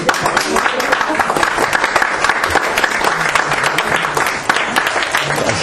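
An audience gives loud, dense applause close by at the end of an esoteric astrology lecture, with a voice or two faintly audible beneath the clapping.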